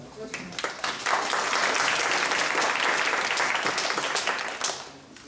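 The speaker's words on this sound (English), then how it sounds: "So I would like to give them a big round of applause right now." An audience at a fundraising concert at World Vision HQ in Monrovia applauds returning alumni, a full wave of clapping that swells, holds steady, then tapers off near the end.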